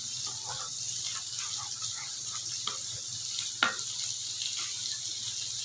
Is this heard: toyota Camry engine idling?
no